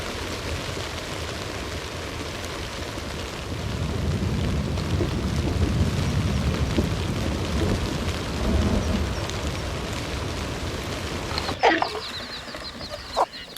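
Steady rain with low rumbling thunder on a farm during a storm, continuous and fairly loud, with a few brief clucks from poultry near the end; no talking.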